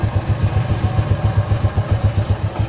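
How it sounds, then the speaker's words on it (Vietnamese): Honda Super Dream motorcycle engine running at idle, a quick, even low putter with a soft mechanical clatter, close and steady, no voices. "Bữa nay tiếng máy nổ bao chắc luôn."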